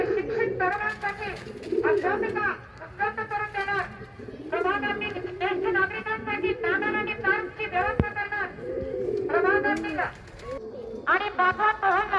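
Punjabi pigeons kept for sale coo repeatedly in rhythmic, throaty bursts, close and clear, with someone talking intermittently between and over the calls.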